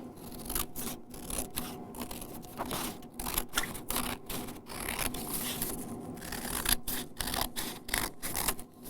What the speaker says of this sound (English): And then I take my scissors again.